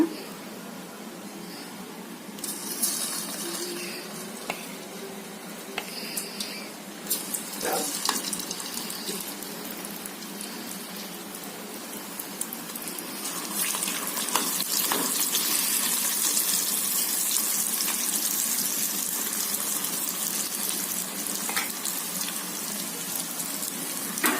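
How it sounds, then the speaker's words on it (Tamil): Masala-coated mushrooms dropped into hot oil for Mushroom 65, bursts of crackling that swell into a loud, continuous frying hiss in the second half, heard close with no one talking. "எண்ணெய் காஞ்சிருச்சுங்க இப்போ நம்ம அதில் போட்டு எடுத்துக்கலாங்க"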